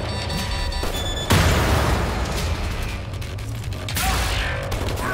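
Grenade blast in the shooter Wolfenstein: The New Order, a loud sudden boom that swells into a dense rumbling roar over steady game noise, with a second surge near the end; no talking.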